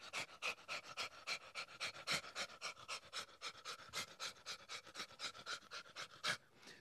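A person imitates a dog panting on a children's show, a fast, steady run of breathy huffs repeating evenly for several seconds, close and loud, with no talking over it.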